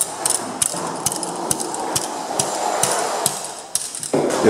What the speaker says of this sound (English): I'm gonna grab my cleaning rod and jam it down.